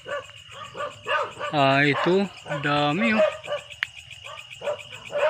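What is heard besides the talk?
dogs barking at night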